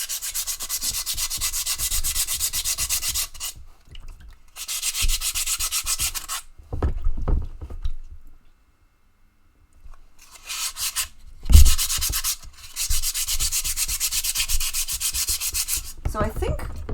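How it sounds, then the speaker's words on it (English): A Petoskey stone is rubbed against 220 grit sandpaper in long, gritty back-and-forth bursts, close and alone, broken by short silent pauses between sets of strokes. "This is 220. So I'm definitely going to kill this sandpaper."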